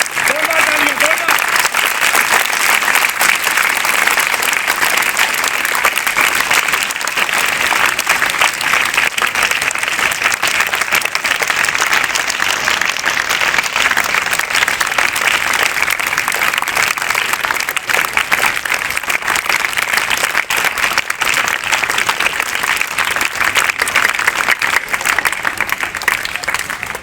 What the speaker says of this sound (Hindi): जोरदार तालियां, जोरदार